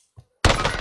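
A frag grenade in the Warzone video game lands with a faint soft thunk, then a loud, full explosion bursts in and roars on with a rumbling, crackling tail.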